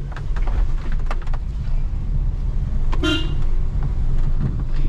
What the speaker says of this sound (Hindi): इसमें ना एक ही हॉर्न था, ये दूसरा मैंने आज ही लगाया।